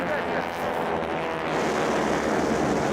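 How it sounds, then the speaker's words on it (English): Racing airplanes, the D6 class, roar around the turn of an air race course in a steady, loud, continuous engine drone with wind noise throughout and no distinct passes. "the airplane's making the turn"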